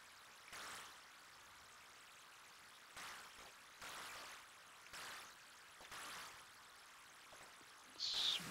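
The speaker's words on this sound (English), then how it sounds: "I actually like the waterfall effect there as well." Waterfall effect in the Atari 8-bit game Salmon Run, soft bursts of hissing white noise, about half a second to a second long, that rise and stop several times at a low level.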